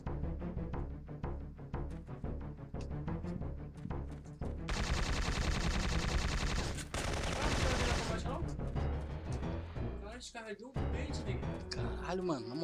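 Rapid gunfire in Syphon Filter 3 in sharp bursts and a sustained stretch of continuous shooting, loud and up close, with a voice speaking around it.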